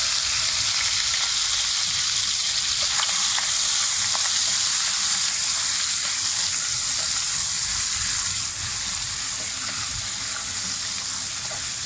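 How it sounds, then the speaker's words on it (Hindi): Finely chopped chicken frying in a garlic-scented pan, a steady loud sizzle with occasional stirring scrapes throughout, no talk. "चिकन भी हम थोड़ा सा फ्राई करके जब ये चिकन गल जाए"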